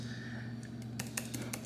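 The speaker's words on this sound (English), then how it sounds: "The keys, very clicky, very nice." Fingers type on the keyboard of a Razer Blade Stealth 2020 laptop: a soft hum first, then a quick burst of sharp, close clicks from the keys.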